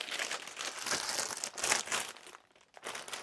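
Crinkling and crumpling of a taped plastic bag being opened to unpack a Grogu figure with satchel, a close, fairly quiet rustle in several bursts with a brief pause.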